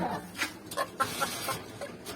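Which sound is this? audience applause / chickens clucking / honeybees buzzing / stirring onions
chickens clucking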